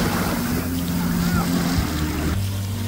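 A fishing boat arriving over the sea, its low engine drone steady beneath wind and surf, the pitch dropping near the end as it comes in.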